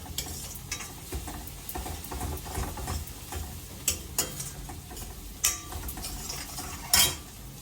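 Dishes being washed in a home kitchen, with scattered clinks and clatters of utensils and pots, some sharp knocks standing out against a quiet background.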